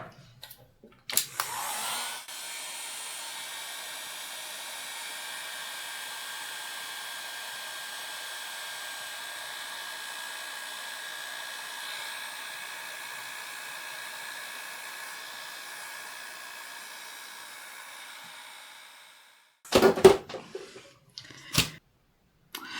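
A heat gun blows a steady, even whoosh over mixed epoxy resin for about seventeen seconds, starting and stopping with clicks and handling clatter at either end.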